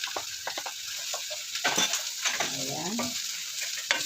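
Garlic, onion and leaves sauté in a pan with a soft sizzle and scraping stir strokes, fairly quiet and close. A brief spoken word cuts in near the end.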